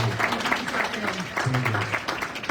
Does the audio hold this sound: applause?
yes